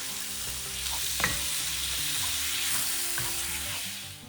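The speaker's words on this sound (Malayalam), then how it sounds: "ടൊമാറ്റോയും കൂടി ചേർത്ത് നന്നായിട്ട് വഴറ്റിയെടുക്കുക" Two medium tomatoes sauté in a pan for Kerala-style chicken roast, a steady close sizzle with occasional scrapes and taps of a stirring spoon against the pan.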